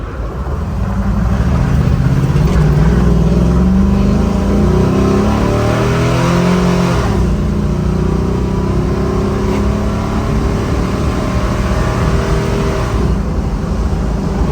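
A 1973 Chevrolet K5 Blazer's V8 engine drones steadily while driving, its automatic transmission shifting as the engine pitch rises and drops, loud and continuous with no talk.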